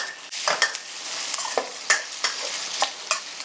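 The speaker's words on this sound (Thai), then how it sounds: "ผัดหมูกรอบให้พอมีกลิ่นหอมค่ะ" Crispy pork sizzles in a hot wok while a utensil scrapes and clanks against the metal in quick, irregular strokes.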